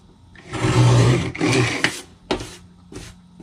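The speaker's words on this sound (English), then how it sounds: "I'm using this trimmer because the blades on my other trimmer are getting so dull" A paper trimmer slicing through a stamp, close and loud: a long rasping scrape of the blade across the sheet, followed by a few shorter scratchy strokes and soft clicks.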